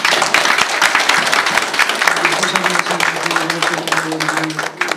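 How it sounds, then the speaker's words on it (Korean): A church congregation applauds the choir during an anniversary thanksgiving service in Canberra, in a dense, steady burst of clapping that carries on for several seconds, with faint voices beneath it. "우리 한번 박수 드립니다."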